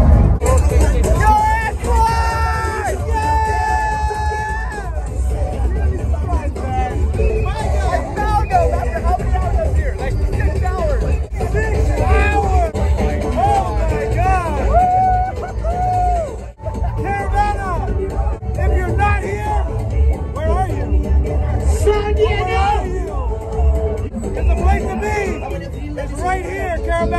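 A packed Caribana festival crowd fills the air with dense, loud hubbub, steady babble and overlapping voices with music-like tones and street traffic underneath, continuing without a break.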